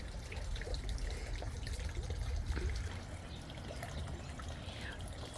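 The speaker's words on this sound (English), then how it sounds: "From the deck, you can see the bird bath, and I love the sound of the water." Water trickles steadily into a garden bird bath, a soft continuous low wash with faint splashes and distant outdoor ambience, no voices.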